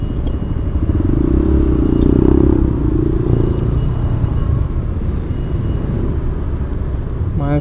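Motorcycles and cars sit in a total traffic jam on Jalan Soekarno Hatta in Malang, engines idling and revving in a steady, close roadway rumble that swells briefly and then holds level.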